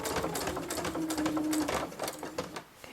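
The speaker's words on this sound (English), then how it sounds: "I'm going to go back up along this line of stitching on the outer edge and a back stitch" A sewing machine stitches a tote bag, running in a fast, steady mechanical rattle at close range for a few seconds before easing off.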